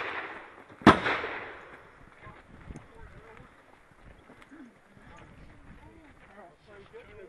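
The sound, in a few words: shotgun shot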